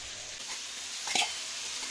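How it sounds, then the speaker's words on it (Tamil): Pirandai and rice, soaked in tamarind, are sautéed in a pan. A soft, low sizzle runs under a couple of brief scraping stirs, faint and close, with no talking. "நல்லா வதக்கணும்."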